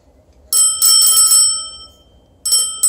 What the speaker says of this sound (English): Let's ring your bell.